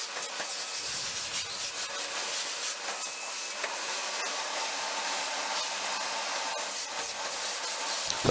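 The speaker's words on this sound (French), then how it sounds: "Donc aspiration, pour enlever les gros résidus." A vacuum cleaner runs steadily, sucking up debris and coarse residue in a kitchen while a range hood is being removed; a continuous, fairly loud broadband whoosh with slight rubbing variations and no talking.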